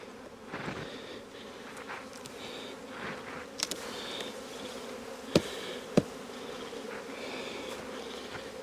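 Honeybees hum steadily around stacked hive boxes outdoors, a soft continuous buzz with individual bees droning past nearby, plus a couple of sharp knocks.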